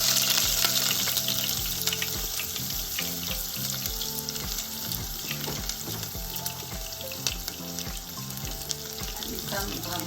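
Mustard seeds and chopped onions frying in ghee in a pan, a continuous moderate sizzle with faint crackle and occasional stirring scrapes, fairly quiet.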